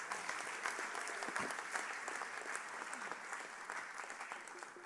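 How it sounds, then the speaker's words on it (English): An audience applauds at a Cheyney University Kente ceremony for the class of 2025, a steady wash of many hands clapping that fills the room, fairly distant and even throughout, with no voices standing out. "Give yourself a round of applause."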